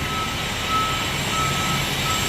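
A semi-truck reversing outside sounds a steady string of evenly spaced beeps, moderately distant, over a constant wash of background noise.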